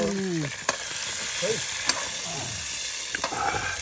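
Vegetables frying in a hot pan give a constant loud sizzle, with occasional scrapes and clinks of a spoon stirring and faint voices in the background.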